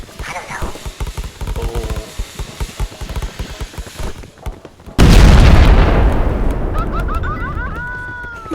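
A loud explosion in the video game PEAK, a sudden booming blast that cuts in partway through and decays over several seconds, following excited talk and laughter, with whistling chirps near the end.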